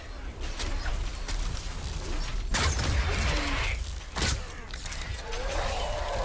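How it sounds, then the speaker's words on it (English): Mechanical creaking and ratcheting from a flinger husk in Fortnite Save the World, with a couple of sharp louder bursts amid a steady busy game background. "Okay, that's the sound of a flinger."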